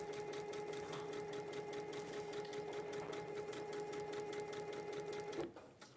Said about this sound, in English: I'm sewing on the dotted line, yes.